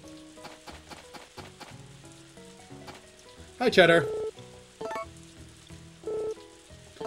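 Steady rain patters across a farm in the video game Harvest Moon: Another Wonderful Life, a soft hiss beneath game music and chimes, with a brief louder splash burst midway and a voice talking over it.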